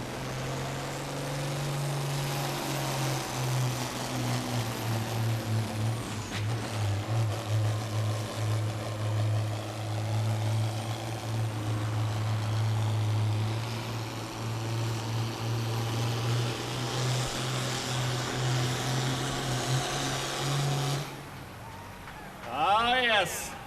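A red tractor's engine roars steadily and loudly through a pull at the Linn County Fair, with a sharp rise in pitch near the end, while an announcer talks over it.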